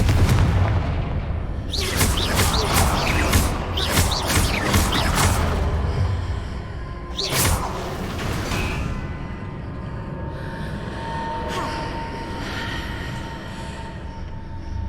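Fiery blasts from the Confringo spell in the Hogwarts Legacy video game, with loud booming bursts close together early on and another sharp blast midway, then a lingering rumble with no speech.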